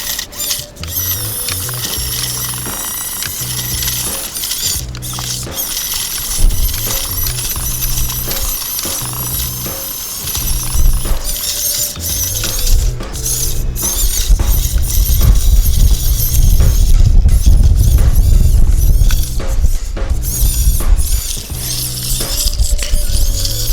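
An HBX 2098B 1/24 scale RC rock crawler driving over rocks, its small motor and gears whirring and ratcheting with irregular clicks and binding squeaks, growing louder and busier toward the end with no talk.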